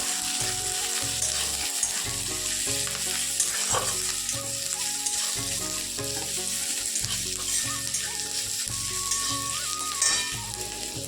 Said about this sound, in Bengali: পেঁয়াজ, কাঁচা লঙ্কা আর ক্যাপসিকাম একসঙ্গে দিয়ে ভালো করে ভেজে নিই